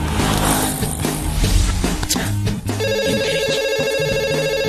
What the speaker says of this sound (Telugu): చిట్టిగాని మిస్డ్ కాల్. ఈ ఫోన్ కాడే చేస్తున్నట్టున్నాడు.